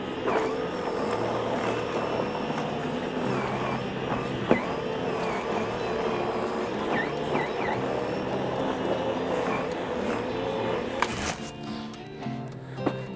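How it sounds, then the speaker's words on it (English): A 24-volt Snow Joe electric snow thrower clears snow from a sidewalk, its motor giving a steady mechanical whir with scraping and small knocks throughout, then cutting out near the end. "this is the optimal time to use the new 24-volt Snow Joe thrower"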